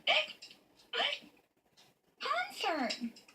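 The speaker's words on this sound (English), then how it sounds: "I think you've got a case of The hiccups." A cartoon girl hiccups in three quick, close vocal bursts. The third is stretched into a longer voiced gulp, and short quiet gaps separate them.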